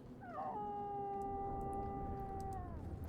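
A dog howls in Dragon Age II, one long sustained howl that rises briefly and then holds a steady drawn-out tone for nearly three seconds, loud and close over a low game background.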